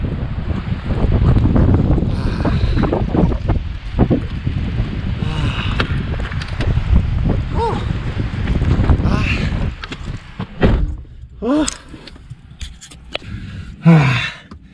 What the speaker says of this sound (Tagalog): Malamig, malakas pa hangin.